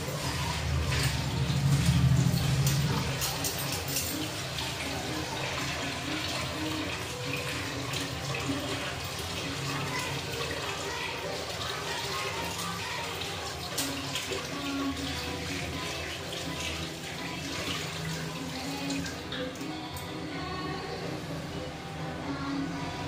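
Tap water runs steadily into a vessel to soak a portion of poha (flattened rice) for breakfast, a continuous moderate splashing flow with a slightly louder burst near the start and faint household background.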